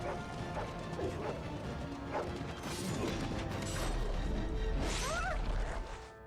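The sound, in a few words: hounds barking in Dragon Age video game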